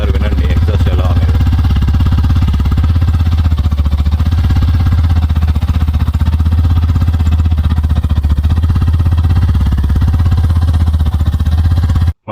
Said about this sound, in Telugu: ఒకసారి వినండి, ఎగ్జాస్ట్ ఎలా అనేది